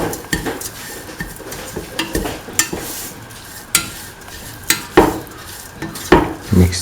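A utensil stirs grated carrots through a sweetened egg mixture for French toast in a bowl, giving repeated close scraping and clinking strokes in an irregular rhythm, with no talking.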